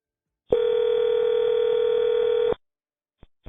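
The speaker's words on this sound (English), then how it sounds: "Lisi started calling his contacts from the Dixon area" A steady telephone dial tone holds for about two seconds, then cuts off, followed by two brief faint clicks or beeps as a number is dialed for a call.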